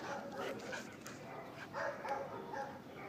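A dog barks a few times at a distance, faint and muffled over steady outdoor background noise.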